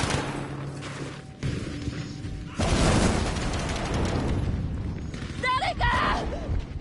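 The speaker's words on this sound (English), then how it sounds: "Oh, that's a grenade." A grenade blast in the World War II shooter Battlefield V, a loud burst followed by a rumbling tail amid game noise and talking players.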